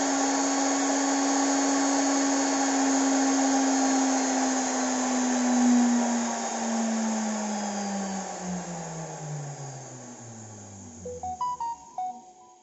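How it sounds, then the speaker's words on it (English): Electric motor driven by a PWM inverter running at full speed, a steady loud whine with a high electronic tone that slowly drops in pitch, then a few brief beeps near the end. "now the motor is running with the full speed"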